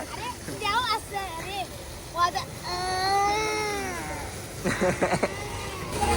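A voice imitates a cat, drawing out several wavering meows, one long and rising, between brief bursts of talk and laughter.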